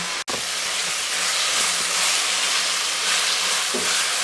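Radish pieces frying with spices in a pan while a spoon stirs them, giving a steady, close, hissing sizzle throughout with one sharp click near the start and no talking.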